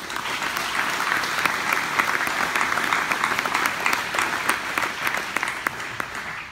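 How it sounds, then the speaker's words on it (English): Graduation audience at a WyoTech ceremony applauds steadily, a dense, sustained wash of many hands clapping at close range for several seconds with no talk over it. "So a round of applause for that."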